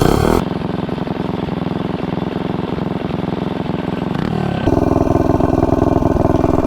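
A vehicle engine pulls hard through a timed 0 to 30 acceleration run with a crankcase vent fitted, a loud, steady, buzzy drone that rises in pitch, then shifts gear and keeps climbing close by.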